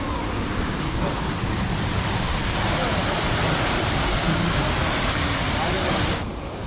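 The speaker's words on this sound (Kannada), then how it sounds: "ತಡ್ರಿ ತೋರಿಸ್ತೀನಿ ಫಾಲ್ಸ್ ಹೆಂಗಿದೆ ಅಂತ ಹೇಳ್ಬಿಟ್ಟು" Soochipara waterfall in Wayanad roaring as a steady, dense rush of falling water, loud and continuous throughout without voices, easing slightly at the very end.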